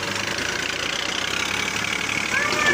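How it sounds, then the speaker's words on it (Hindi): A tractor engine idles with a steady, rough mechanical rumble, close and fairly loud, rising slightly near the end. "ये ट्रैक्टर है 480 है 240 है"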